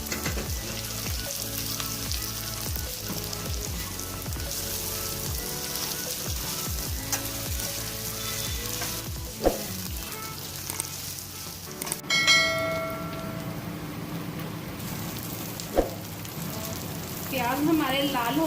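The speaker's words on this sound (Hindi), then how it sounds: "अब हम प्याज ऐड करेंगे और प्याज को हल्का सा फ्राई करेंगे।" Steady sizzling of onions frying in a pan, with scraping stirs and a few clinks of a utensil against the pan.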